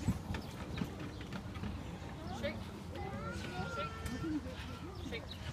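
Goat hooves clop on the ground as animals walk past at a zoo, a light irregular tapping close by, mixed with chatter and children's voices in the background.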